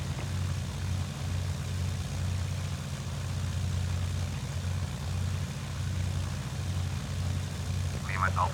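A simulated airliner in FsPassengers taxis with a steady low droning engine hum, moderately faint and unbroken throughout, with a brief voice-like chirp near the end.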